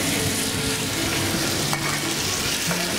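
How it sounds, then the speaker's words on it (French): Steady, close sizzling and crackling of poultry browning in a small pot over fairly high heat, a constant frying hiss with no talking. "On va faire dans cette petite marmite revenir gentiment pour faire un petit peu colorer donc la volaille"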